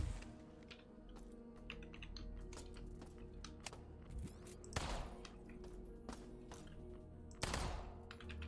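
Gunfire in System Shock aimed at security cameras: two sharp, loud shots stand out near the middle and end over a steady game ambience hum, with faint clicking scattered throughout.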